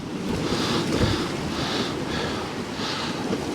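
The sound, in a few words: strong storm wind at Poole Harbour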